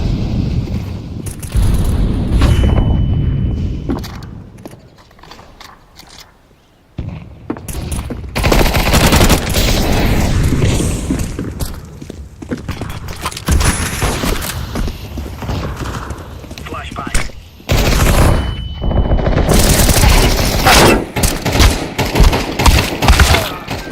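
Dense gunfire and explosions from a shooter video game, rapid automatic bursts and loud blasts in repeated waves with brief lulls, a voice occasionally talking underneath.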